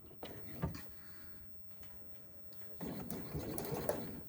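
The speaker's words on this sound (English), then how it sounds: "and sew straight to the end" A sewing machine stitches a lining seam on a crossbody bag, with a short burst of stitching early on and a longer run near the end, separated by a quieter pause; sound is close and fairly soft.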